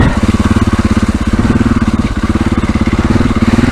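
A motorcycle engine runs close by at low revs while the rider works the clutch to creep forward. It makes a steady, loud, rapidly pulsing thrum with small swells in power.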